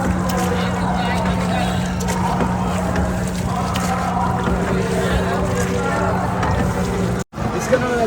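A boat on the river at Triveni Sangam during the Maha Kumbh Mela, a steady engine drone with a constant low hum under wind and continuous crowd or nearby voices.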